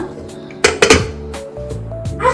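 Boiled potatoes and peas being mashed in a metal pot for panipuri, with several clanking, scraping knocks of the masher against the pot, close and loud, between quieter pauses.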